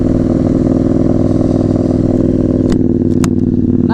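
A KTM Duke 790 motorcycle engine runs loud and steady close by with a constant throbbing drone, and a few brief clicks and clatters come near the end.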